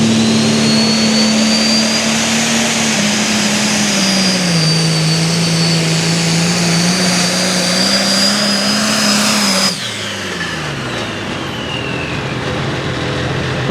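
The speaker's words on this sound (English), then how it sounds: "Nick Bradley out of Elora, Tennessee, driving the International called Tennessee Red." An International pulling tractor in a Limited Pro Stock tractor pull roars loudly and steadily at full throttle, pitch wavering through the run before the engine abruptly drops off and winds down near the end.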